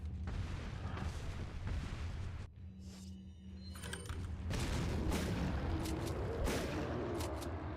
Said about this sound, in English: Throw a grenade at a distance and shotgun him during your stun animation.